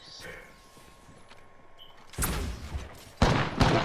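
Pistol fire in the Apex Legends video game: a few sharp shots arrive in two bursts after a quiet stretch, loud and close over low game ambience.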